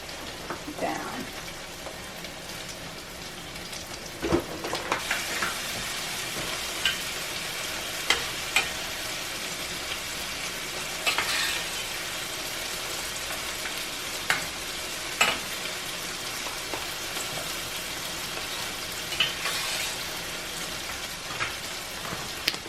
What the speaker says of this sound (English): we're gonna add some spinach so the spinach can cook